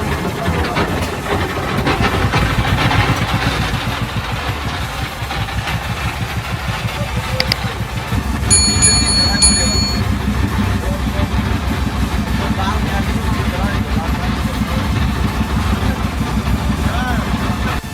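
A trawler boat engine chugs steadily on Kaptai Lake, a continuous low throbbing drone that runs throughout with a brief higher chime partway through.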